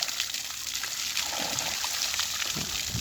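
Water trickles from a drip irrigation tape fed by a 750-watt, one-horsepower solar-powered pump in a garden orchard, a faint, steady dribble beneath broad background hiss.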